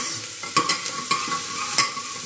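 Onion fries in a pan for foxtail millet khichdi. A soft, continuous sizzle is broken by a few sharp scrapes and clinks as a spoon stirs, heard close with no talking.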